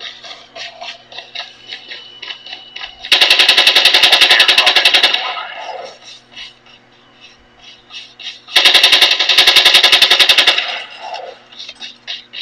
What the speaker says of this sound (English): I think he's shooting a guy in a parachute.